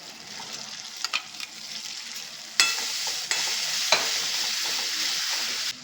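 Tomato puree and green chillies fry and sizzle in a hot pan while a spoon stirs them, a steady close hiss with scraping strokes that swells louder as more is added.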